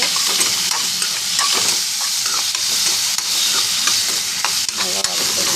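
Chopped onion and tomato sautéing in a pan, with a steady loud sizzle and frequent stirring scrapes throughout, no voices.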